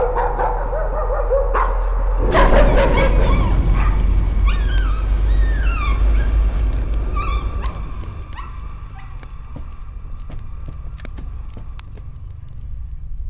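A dog in the horror video game Layers of Fear barks and whimpers, with loud yelps and whines over a dense, rumbling game soundscape that later thins to scattered sharp clicks.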